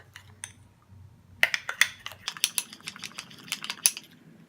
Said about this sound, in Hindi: इन सब चीजों को मिक्स कर लेंगे। अच्छे से मिक्स कर लेंगे।